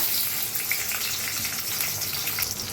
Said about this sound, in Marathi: तेल चांगलं तापलंय, त्याच्यात टाकूया आपण कांदा.